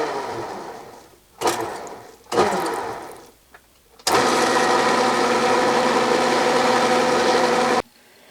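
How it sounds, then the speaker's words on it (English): A metal lathe running in back gears to power-tap a thread in a steel hand vise part, with a few short motor starts and stops, then a steady loud whirring run that cuts off abruptly. "I'm going to attempt to power tap it"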